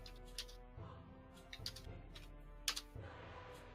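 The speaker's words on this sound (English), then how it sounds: "he's typing something else" Faint keystrokes on a computer keyboard tap out in short, irregular bursts during a tabletop role-playing session, with soft background hum and no talk.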